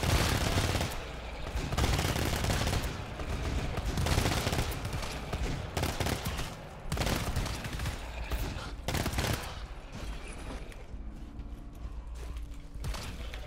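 Burst cannon fire from the video game GTFO rattles in rapid, dense volleys, loud and continuous, with brief gaps between bursts and mechanical clanks as the firing thins out.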